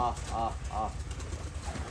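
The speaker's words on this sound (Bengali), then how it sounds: "কবুতর বসছে" Two or three soft pigeon coos sound close by over a low rumbling background, then fade.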